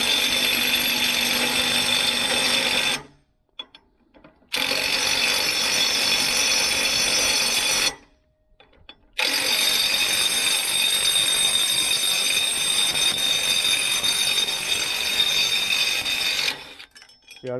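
A power tool runs on the bolts of a cheap trailer jack in long, loud, steady whirring bursts, cutting out twice for brief pauses, with no talking.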